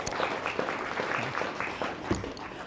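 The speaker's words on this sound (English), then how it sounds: "Give them a round of applause." Audience at an emotional intelligence leadership session gives a brief round of applause, uneven claps from a moderate crowd with some voices mixed in.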